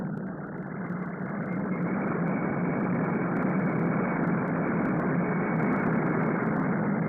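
B-58 jet bomber taxiing on a runway, a loud continuous engine roar that stays steady and close throughout, with no talk over it.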